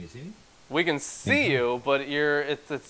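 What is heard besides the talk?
No everyday noises stand out.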